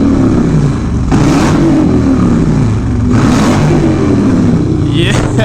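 A motorcycle engine revs hard and roars steadily close by in Sturgis, its exhaust rumbling loud throughout with brief throttle surges.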